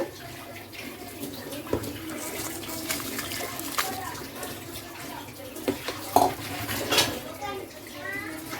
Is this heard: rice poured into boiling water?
yes